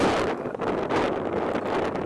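Strong gusty wind buffets the microphone on a Maui disc golf course, a loud continuous rushing roar with slight surges and no letup, and no voices heard over it.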